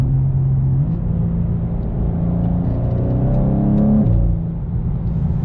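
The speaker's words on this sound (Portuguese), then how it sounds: "Com esse som no retrocesso do escape" BMW M2 engine and exhaust rumbling close by, with a steady low drone that shifts pitch as revs change and a brief drop near the end consistent with a downshift; distinct pops are not clearly separated from the drone.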